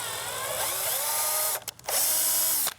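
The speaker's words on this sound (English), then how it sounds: "I also have this great metric tap that I can run right in my drill to make some" A handheld drill drives a metric tap to cut threads, giving a whining motor tone that rises in pitch, stops briefly and then runs again for a short second burst.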